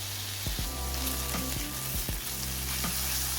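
Mushrooms sizzle steadily in a hot frying pan with bacon for a frittata, a constant close frying hiss with a few soft knocks of utensils against the pan.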